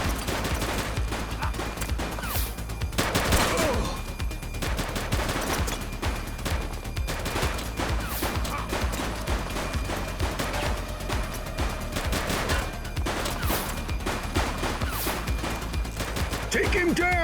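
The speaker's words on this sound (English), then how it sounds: "He's shooting!" Gunfire in The Precinct police video game crackles in repeated rapid bursts of shots, some sharp and close, sustained throughout with voices at times amid the shooting.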